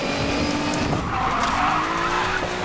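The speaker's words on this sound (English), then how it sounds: "A good old Need for Speed drifting." Tires squeal and skid continuously as a car drifts through a full turn in the Need for Speed Payback racing game, a steady loud engine roar underneath the screeching rubber.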